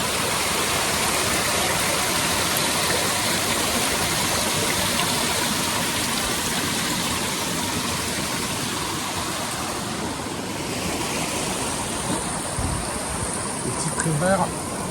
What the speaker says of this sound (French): Ça fait des rideaux d'eau qui coule.